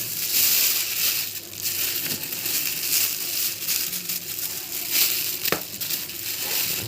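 A plastic bag full of salted fish (fesikh) is twisted and tied shut by hand after the air is pressed out. The crinkling and crushing of the plastic is close and busy and runs the whole time, with one sharp click near the end.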